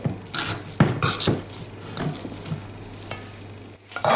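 Cooked potato flesh, scooped from baked potatoes, is pressed with a potato masher in a bowl, giving soft irregular squishing and scraping strokes with a few sharper clinks of metal against the dish, close up.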